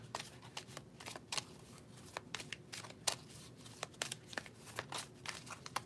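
A deck of playing cards shuffled repeatedly by hand, with quick crisp riffling bursts and light slaps in an irregular rhythm, close and fairly quiet against a soft room hiss.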